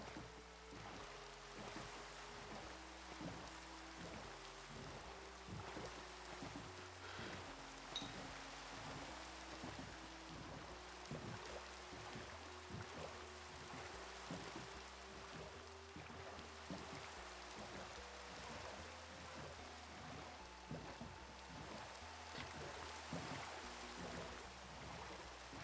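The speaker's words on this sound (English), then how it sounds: "Default Minecraft rain is awful." Steady rain falls in Minecraft with shaders enabled, a continuous hiss over the whole stretch. Looping game music with a low melodic pattern plays beneath it, and no one speaks.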